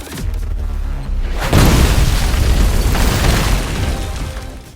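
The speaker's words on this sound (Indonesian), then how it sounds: "Ledakan tersebut membuat polisi terkejut" A loud explosion bursts in with a heavy boom, followed by a roaring, crackling rumble that slowly fades.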